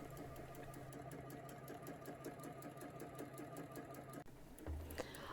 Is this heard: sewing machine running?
yes